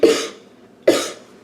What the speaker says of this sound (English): as soon as I said that, I started coughing